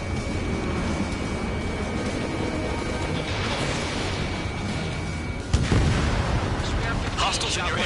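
Missile launch and explosions in the Ace Combat flight game: a dense, continuous roar of jet noise and blasts, with a sharp loud impact near the end, under radio chatter.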